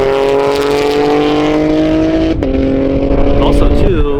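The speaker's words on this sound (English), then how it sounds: "this exhaust sounds, because it has like a nice rasp that kind of reminds me of an E46 M3 rasp" A BMW G82 M4 with an aftermarket exhaust holds a loud, steady raspy drone close by, its pitch stepping down once midway and dropping again near the end.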